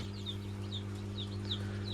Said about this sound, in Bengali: এখানে আমাদের প্রায় 28টা মুরগির বাচ্চা উঠেছে।